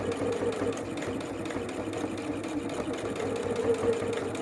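A sewing machine runs at a steady speed, stitching fabric for a zipper pouch, with a continuous close, rhythmic mechanical whir and no break throughout.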